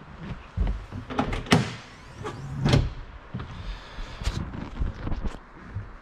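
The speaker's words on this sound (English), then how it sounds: "I'm gonna lift up this storage area so you can see it." Storage hatch on a Boston Whaler 330 Outrage center console boat being lifted, a few sharp clunks and knocks close by over a quiet background.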